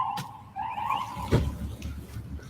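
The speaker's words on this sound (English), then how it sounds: "Alarms are going off." Street alarms wail out in the rain at a Memphis neighbourhood scene, a fluctuating tone sounding at moderate distance, with a sharp thud partway through and a low rumble of traffic underneath.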